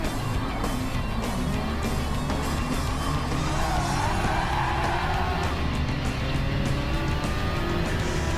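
A Ferrari Testarossa driven hard in a Challenge Series race, its engine giving a steady, dense roar mixed with other cars' racing noise, continuous and fairly loud throughout.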